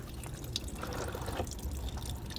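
Coolant drains out of an old car's radiator in a faint, steady trickle with light dripping, close and quiet.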